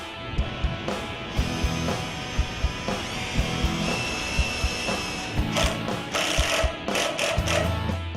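Power driver running screws into the jamb of a Pella bifold patio door, a steady mechanical whir with regular clicking pulses throughout and a louder surge near the end, close up with no talking.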